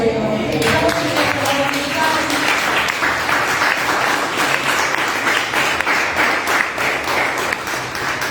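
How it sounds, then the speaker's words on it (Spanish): Congregation applauding during a church sermon, loud close clapping that starts under a voice and continues as a rattling burst of many hands, slowly thinning toward the end. "denle un aplauso al Señor."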